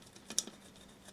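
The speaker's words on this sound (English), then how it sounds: "I take a razor blade and scrape that off" A razor blade scrapes cured Hxtal resin off a ceramic surface, giving a few short, close, dry scratching strokes with one sharper scrape standing out, no talking.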